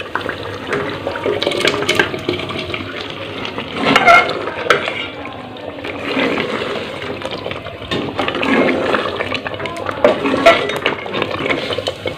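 Mutton liver stirred into frying masala in a pan, with a steady sizzle under repeated scraping and spoon clinks against the metal, louder around the middle.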